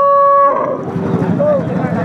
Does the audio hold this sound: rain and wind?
no